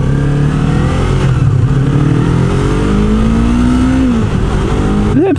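A Yamaha MT-03 motorcycle accelerates hard and close, its engine note climbing steadily through the gear, dropping briefly at a shift and rising again at the end, loud and continuous with no talking.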